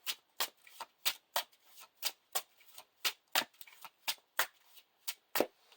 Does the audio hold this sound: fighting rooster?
no